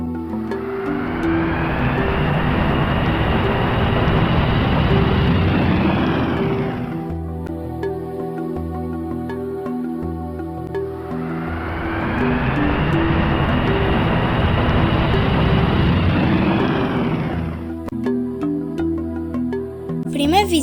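An airplane roars past twice, each pass swelling into a loud whooshing rush with a falling pitch, separated by a quieter stretch of steady tones.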